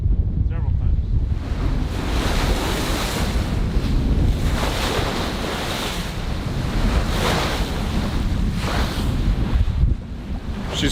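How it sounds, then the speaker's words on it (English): Ocean waves wash and surge around a sailboat beating upwind at sea, with steady wind buffeting the microphone throughout; the broadband roar swells in repeated bursts and stays loud and close with no talk. "We've been taking waves all day."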